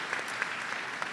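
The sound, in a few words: audience applause at political convention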